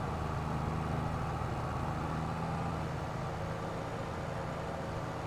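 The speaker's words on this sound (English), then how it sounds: "Just to hear the roars out of this engine." An engine running steadily at cruising speed, a faint, even, continuous rumble with low droning tones and no talking.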